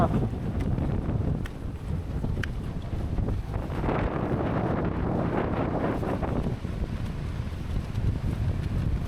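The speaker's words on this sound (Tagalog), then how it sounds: "Basta ng hangin mga tropa." Strong seaside wind on a rooftop deck roars and buffets continuously, with gusty rumbling throughout and no clear voices.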